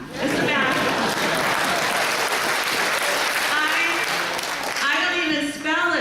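Applause fills a hall at a socialist conference after a speech, a dense sustained crowd clapping that runs loud and even, with a speaker's voice returning near the end.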